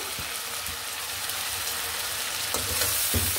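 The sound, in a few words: cumin, garlic and onion paste frying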